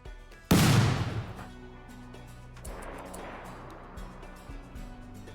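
Mini slug turrets in RimWorld fire one loud, sharp, close shot that decays into a lingering rumble, followed by fainter scattered pops and clicks of the ongoing fight.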